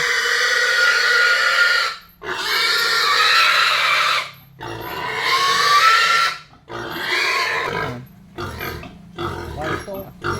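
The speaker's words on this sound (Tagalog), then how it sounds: "Binibitawan yung baboy." Backyard pig squealing and grunting loudly while being weighed, in long harsh bursts broken by short pauses, with people talking over and between the animal noises.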